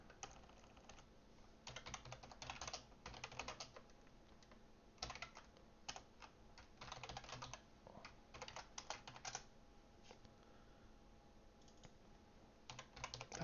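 Bursts of fast typing on a computer keyboard, close and fairly quiet, in uneven clusters separated by brief pauses, with no talking.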